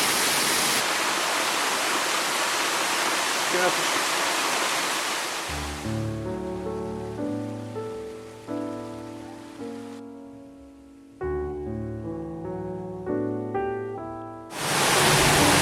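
A loud waterfall roars steadily for several seconds, then drops away under a stretch of music before the heavy rushing water returns at the end.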